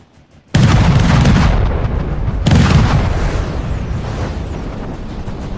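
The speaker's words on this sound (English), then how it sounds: "And those are just all frag shells coming out." A video-game cannon fires frag shells in two heavy, booming blasts a couple of seconds apart. Each shot is loud and close, with a long rumbling tail that fades between them.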